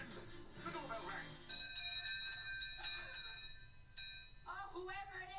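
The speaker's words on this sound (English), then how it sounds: "And then the doorbell rang." Doorbell chimes ring out in a few clear, sustained tones between stretches of speech, with voices talking over and around them.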